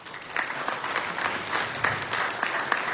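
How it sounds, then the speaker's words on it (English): A credit union annual meeting audience claps for about three seconds, steady moderate applause from a room full of people with no talking over it. "let's give her a round of applause anyway"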